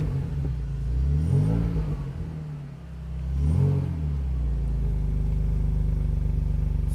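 A BMW coupe with about 87,000 miles on it, a totaled salvage-auction car, idles after starting. The low engine rumble swells twice in slow revs, then settles into a steady burbling idle, close up, with no talking.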